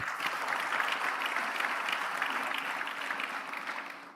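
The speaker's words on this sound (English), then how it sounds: "give a resounding applause to our faculty" An audience at a business school executive programmes graduation ceremony in Lagos applauds its faculty: a full, sustained roar of many hands clapping that holds steady and then eases slightly toward the end, with no talking over it.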